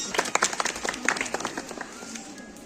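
Scattered clapping from a crowd of children and teachers at a school teaching-materials fair, irregular individual claps that are fairly close at first, then thin out and fade.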